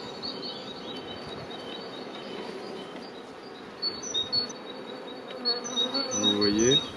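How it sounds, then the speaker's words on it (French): Honeybees drone in a dense, steady buzz around an opened hive, heard close by, with faint bird chirps and some brief handling noise toward the end. "Les abeilles sont plutôt très calmes."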